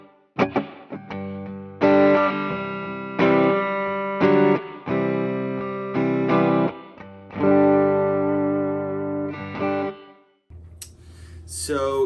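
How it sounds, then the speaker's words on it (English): Bass guitar run through compression with plate reverb from a Strymon Big Sky pedal, a series of sustained notes and phrases ringing with a smooth reverb tail, played alone. "Here's just a little bit of plate reverb from the Big Sky."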